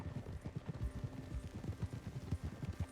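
Horse hooves clip-clop in a quick, even rhythm in Red Dead Redemption 2, a close, steady trot heard alone.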